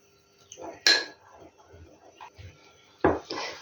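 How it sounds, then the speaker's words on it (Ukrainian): A spoon clinks and scrapes against a cup in short, irregular strokes while stirring flour, with a couple of louder knocks, close by and without talk. "Отак гарненько його зараз тут розмішаю"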